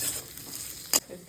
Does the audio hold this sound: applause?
no